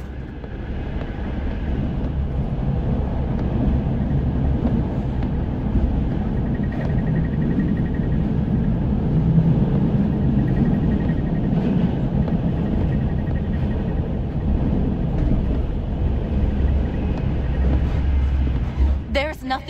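A train in the horror game Reveil rolls steadily along its rails, a continuous low, heavy rumble with a faint mechanical rattle that holds at an even level throughout.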